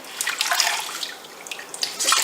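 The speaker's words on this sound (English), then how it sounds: "make sure all the water comes out and squeeze it" Water squeezed out of a soaked plush toy, giving a soft wet splashing and trickling hiss that rises in brief bursts and stays close throughout.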